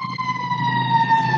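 A civil warning siren sounding outdoors nearby, a sustained steady wailing tone with rich harmonics holding at a fairly loud, even level for a brief moment.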